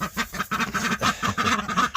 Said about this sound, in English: That's 3 of our Pekin ducks